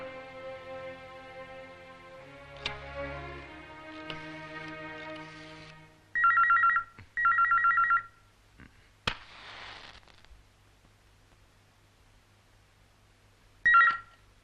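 An old-style telephone rings after a call is placed in the Malayalam film Mannar Mathai Speaking, with two loud electronic ring bursts, a pause, then one more ring over quiet background music.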